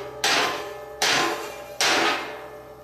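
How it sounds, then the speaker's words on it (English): Three hard, ringing metal strikes land about a second apart as a hammer smashes at a flux core weld on an exhaust pipe, each loud, close, and decaying slowly with no voices. "now let's see if I can smash my weld off."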